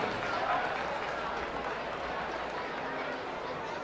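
Audience applause for Class 4 exhibitors at a youth swine show: a steady, dense wash of clapping from the crowd that holds at an even level throughout, mixed with some background chatter.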